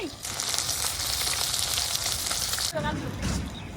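Fish sizzling steadily in hot oil in a home kitchen pan, a continuous close frying hiss that shifts near the end as the fish is lifted out, with a voice faintly present.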